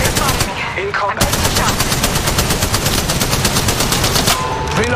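Rapid automatic gunfire rattles almost continuously in the Apex Legends Mobile video game, loud and close, with brief gaps and game voice lines beneath the shots.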